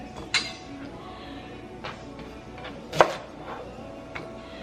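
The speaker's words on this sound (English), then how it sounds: "I'm just going to chop up 4 green onions from green to white" Four green onions cut with a knife on a kitchen board for a pot roast and wedge salad, giving a few sparse, sharp chops with quiet clinks between, close and fairly soft, no talking.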